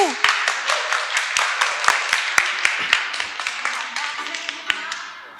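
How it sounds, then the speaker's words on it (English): Scattered hand claps from a small conference audience, close and uneven, with a cheer at the start, thinning out over a few seconds. "Let's give him applause."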